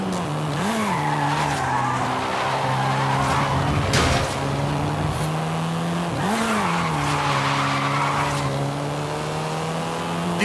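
Tires of a Volkswagen Golf R screech and skid in Forza Horizon 5, a loud continuous squeal over a droning engine, with two sharper swells in the middle.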